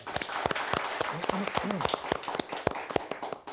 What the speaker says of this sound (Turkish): Serkan Kaya Başkanıma güçlü bir alkış rica ediyorum.